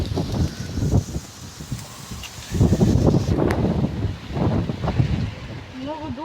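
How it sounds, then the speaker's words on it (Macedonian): Strong wind gusting outdoors in a cherry orchard, a broad rushing roar that swells and fades in waves across the clip, with rustling and a few faint voices in the background. "Многу дува."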